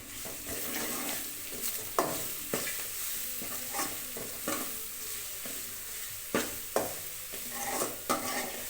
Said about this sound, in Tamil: அதையும் சேர்த்து நம்ம நல்லா கிளறி விட்டுடலாம்